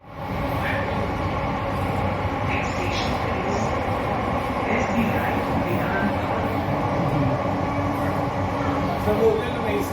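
An underground metro train on Mumbai's Aqua Line rumbles steadily through a tunnel, a continuous low roar with faint high squeals, while passengers talk quietly nearby.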